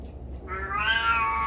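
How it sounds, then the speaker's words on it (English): A house cat meows at a pair of shoes, a single close, rising drawn-out cry lasting about a second over quiet room tone. "She's meowing at my shoes."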